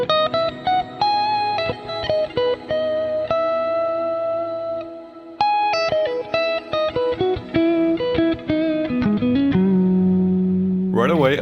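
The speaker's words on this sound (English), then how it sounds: "This thing has become my go-to Shimmer Reverb to get sounds like this." Lava Reverb shimmer reverb plugin in REAPER, bright sustained shimmering tones with rising octave layers, loud and continuous, pitched notes blooming and echoing into each other with no talking.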